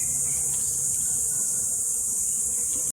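Large male bees buzz steadily in a constant, fairly loud drone near the microphone, with a bright high whine running through the whole stretch and no talking.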